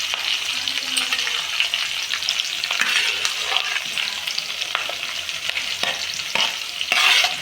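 Ingredients for a mutton curry frying in a pan, a loud continuous sizzle close by with occasional stirring scrapes throughout and no speech.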